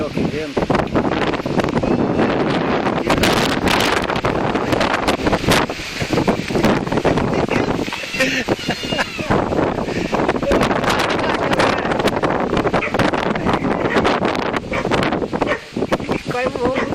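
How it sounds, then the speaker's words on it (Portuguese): A strong gale during a storm in São José batters the microphone with a loud, constant roar and rough gusting bursts, and people speak over the wind throughout. "Olha lá que vento."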